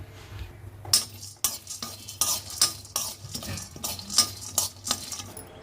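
Peanuts and roasted gram are dry-fried in a pan for chutney, with a spoon or spatula scraping and clattering against the metal in quick irregular strokes over a soft rattle of the ingredients, close up and without talk.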